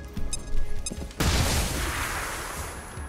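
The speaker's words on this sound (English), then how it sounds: "Let's go ahead and throw in a flashbang on the two hit men." Flashbang grenade in XCOM Chimera Squad, a sudden loud burst about a second in that spreads into a long hissing, ringing decay, preceded by a few small clicks and thumps.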